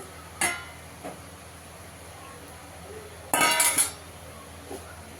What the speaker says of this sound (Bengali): মাছ, বেগুন, বড়ি সব দিয়ে দেবো একসঙ্গে।